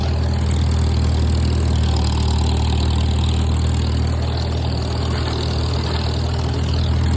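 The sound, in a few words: Farmall M tractor engine running while brush hogging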